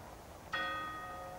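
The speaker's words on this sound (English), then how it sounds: "chimes out 11 o'clock." A single bell of the old clock tower at a royal Trooping the Colour parade in London strikes once, clear and ringing, its tone lingering and slowly fading over a soft outdoor hush.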